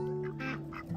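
A farmyard duck gives a few nasal quacks in quick succession, loud and close, with no talk.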